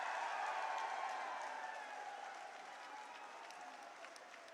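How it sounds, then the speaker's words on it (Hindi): A crowd at a BJP by-election rally in Adampur claps in a sustained round of applause for a guest honoured with a turban and shawl, dense at first and slowly fading. "जोरदार तालियां से स्वागत।"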